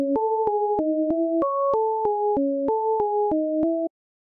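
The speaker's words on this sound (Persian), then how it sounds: "همینطور که دیتون میکنم به صدا دقت کنید که نم نم وایت تر میشه" Synthesizer in FL Studio with one oscillator being detuned, playing a steady sequence of about a dozen short sustained notes that step up and down in pitch, clean and alone, then stopping abruptly.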